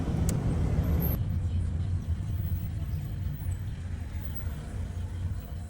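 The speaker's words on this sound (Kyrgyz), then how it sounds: "Эми мына жол кыймылы жөнгө салынып, пробка дагы болбой калды." Road traffic flowing on a street in Bishkek after a jam has cleared: a steady, dense low rumble of passing cars and heavier vehicles, continuous and fairly loud throughout.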